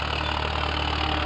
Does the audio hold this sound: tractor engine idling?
yes